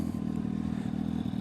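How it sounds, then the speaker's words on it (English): Kawasaki ZX-12R motorcycle engine with a deep exhaust note, a brief close steady low rumble with a slight rise, no voices. "I'm gonna give you some little revs now as well."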